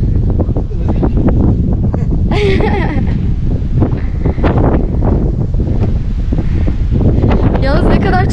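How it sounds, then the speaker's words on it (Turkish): Strong wind buffets the microphone at an ancient castle site near Adana, a loud, continuous roar with rumbling gusts while a person talks over it. "Çok rüzgar var."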